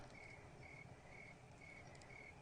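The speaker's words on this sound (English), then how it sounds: "Don't you love that sound effect? The crickets." Crickets chirp in a video game night scene in Feylands, a steady repeating trill of short pulses over soft ambient background, with no talking.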